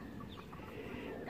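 Chickens cluck softly nearby, a low, murmuring stream of brief fowl calls over a steady background hum, with no talking.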